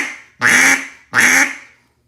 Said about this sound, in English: Very easy. Single quack.